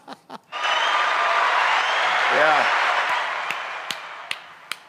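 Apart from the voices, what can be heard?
applause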